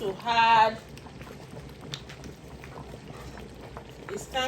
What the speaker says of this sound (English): So the soup is cooking so nicely.